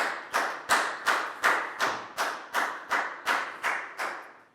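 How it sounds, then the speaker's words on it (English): Students in a Year 4 maths class clap in an even rhythm of about ten sharp, separate beats, each fading quickly before the next, with no voices over them. "High five and a big round of applause for Lakgao, please, guys."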